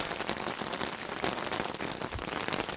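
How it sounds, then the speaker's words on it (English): Rain patters and hisses steadily on a dirt trail for a few seconds, fairly faint and close, with no talking. "Pouring rain."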